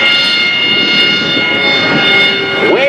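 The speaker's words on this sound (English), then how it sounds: "The Marines, they always bring the loudest airplane to any air show with the Harrier." An AV-8B Harrier II jet at an airshow gives off a loud, steady roar with a high-pitched whine, holding close and constant throughout.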